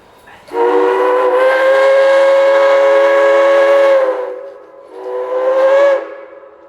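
Southern Railway steam locomotive 154 departing sounds its steam whistle in one long chord-like blast, then a second shorter one, loud and clear against an otherwise quiet background.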